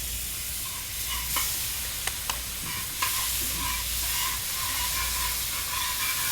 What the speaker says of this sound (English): Stir that around. I like all that steam coming up.